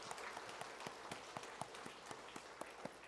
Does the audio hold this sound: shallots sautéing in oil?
no